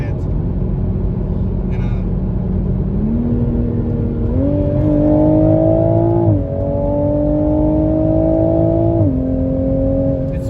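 A 2021 Toyota Supra engine revs up steadily, its pitch climbing then dropping abruptly at several quick dual-clutch gear shifts, loud and close, with someone talking faintly underneath.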